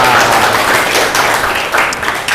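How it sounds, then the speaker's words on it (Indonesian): Children in a classroom applauding together, a dense, steady burst of clapping that fills the whole stretch at close range, with a few voices mixed in. "tepuk tangan semuanya untuk hari ini"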